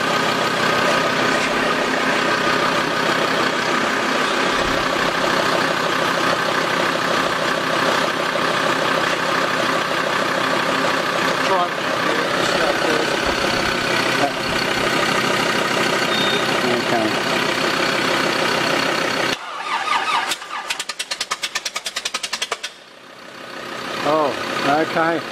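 Unmuffled Austin Healey 100/4 four-cylinder engine with standard SU carburettors, first fired after 40-50 years, runs loud and steady for about twenty seconds before cutting out; a few rough bursts follow.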